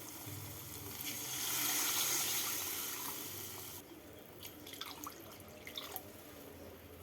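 Hot water pours into a pan of mutton kofta curry masala with a steady hissing gush that stops after a few seconds. Light drips and stirring clinks follow.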